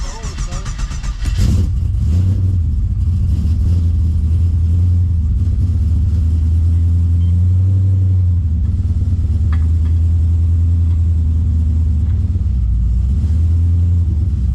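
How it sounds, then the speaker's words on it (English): A Pontiac GTO V8 engine fitted with racing rear springs is cranked over, catches and settles into a loud, steady, deep rumbling idle, heard close up. "Let's crank her up, put her in drive, and see what she looks like."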